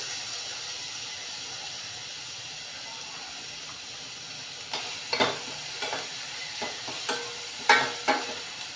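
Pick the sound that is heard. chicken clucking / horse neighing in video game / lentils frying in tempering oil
lentils frying in tempering oil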